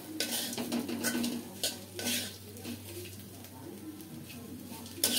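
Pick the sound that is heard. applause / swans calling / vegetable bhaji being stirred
vegetable bhaji being stirred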